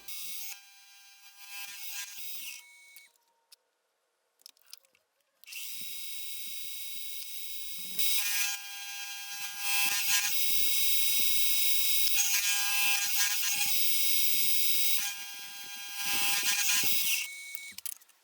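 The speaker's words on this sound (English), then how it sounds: "come in with an end mill and just remove as much material as I can to establish the basic profile" A milling machine end mill cutting the basic profile of a lock key, giving a close high-pitched whirring grind in several bursts separated by brief quiet gaps, steady and loud while cutting, with no talk.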